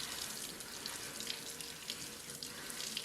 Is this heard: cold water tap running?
yes